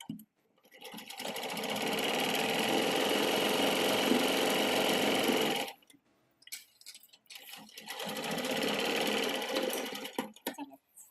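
An electric sewing machine stitches blouse fabric in two long continuous runs, loud and close, separated by a pause filled with faint handling clicks.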